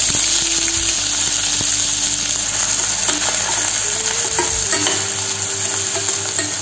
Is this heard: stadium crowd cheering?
no